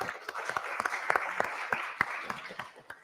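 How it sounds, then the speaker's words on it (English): A workshop audience at a Grade 10 maths session gives a round of applause, scattered individual claps popping out irregularly over a soft, steady patter for about three seconds, moderately close and not very loud. "How's a round of applause?"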